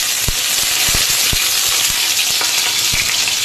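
Curry leaves crackle and sizzle in hot oil heated for frying fish, a loud, dense hiss close by, broken by sharp popping spatters scattered throughout, with no talking.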